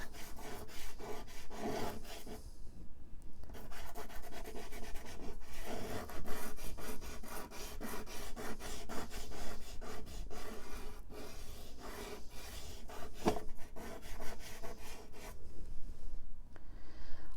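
Dark violet pastel rubs and scratches against paper in quick, repeated close strokes while filling in a small crescent moon shape, continuing steadily with no talking.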